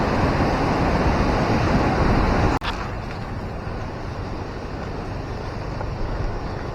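Fast, turbid floodwater loaded with wood debris rushes past after a volcanic-mud flash flood at Lembah Anai on Mount Marapi, West Sumatra, giving a loud, steady broadband roar with one brief thump partway through.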